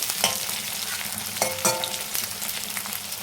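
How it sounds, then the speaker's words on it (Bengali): Onions fry in a pan with salt added for a tomato-poppy-seed dish, a steady close sizzle broken by a few sharp clatters of stirring, with no voices. "দেখো পেঁয়াজটা অল্প ভাজা হয়েছে, একটু নুন দিয়ে দিলাম"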